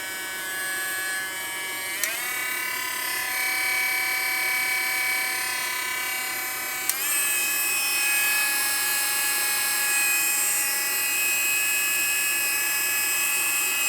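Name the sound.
Hoto rotary tool motor running unloaded at 25,000 RPM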